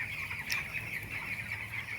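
Twelve-day-old poultry chicks in a coop with an intestinal problem, soft high peeping and clucking at a low level over faint background hum, with a brief louder call.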